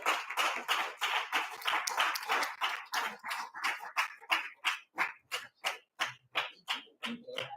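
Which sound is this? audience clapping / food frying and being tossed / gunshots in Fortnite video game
audience clapping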